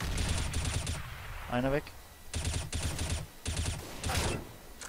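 Bursts of gunfire from Counter-Strike: Global Offensive come in several rapid volleys, loud and close, with players talking between and over the shots.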